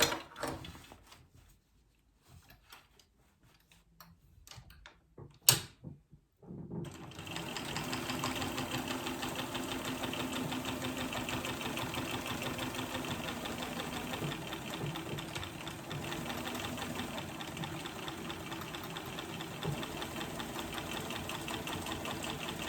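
Sewing machine stitching a tote bag: after a few quiet seconds of faint handling, the machine starts and runs steadily and continuously, a close, even mechanical whir to the end.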